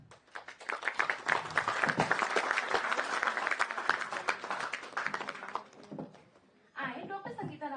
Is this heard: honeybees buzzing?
no